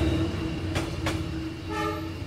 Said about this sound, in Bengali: ট্রেন ছুটে চলল আপন গতিতে।